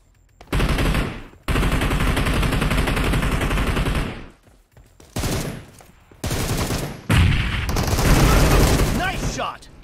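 Automatic weapons fire in the mobile battle royale game PUBG Mobile, with loud, dense sustained bursts broken by short pauses, close and alone.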